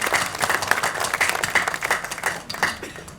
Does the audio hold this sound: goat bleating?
no